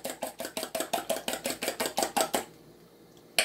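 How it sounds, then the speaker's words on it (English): Three eggs are beaten for a Spanish omelet, probably with a fork or whisk against a bowl, giving about fourteen quick, even rhythmic taps that then stop, with one more tap near the end. "We've taken three eggs and we're beating them up now"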